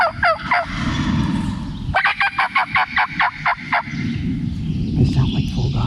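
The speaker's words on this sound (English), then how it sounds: "They sound like full gobbles too." Wild turkeys gobble in repeated loud bursts, one rattling call at the start and a longer rapid series in the middle, heard outdoors on public land during turkey season, with faint background noise between calls.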